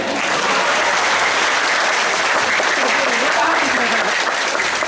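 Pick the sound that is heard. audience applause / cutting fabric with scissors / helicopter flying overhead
audience applause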